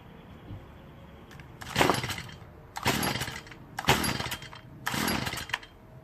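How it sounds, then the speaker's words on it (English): A Stihl FS45 gas string trimmer's small two-stroke engine being pulled and sputtering, four loud rough bursts about a second apart, with quieter gaps between them. "I'm gonna start it up."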